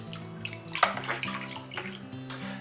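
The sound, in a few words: spoon stirring stabilizer into wine kit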